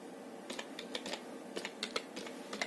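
Someone types a command on a computer keyboard, a quick, uneven run of soft close keystroke clicks with no other sound.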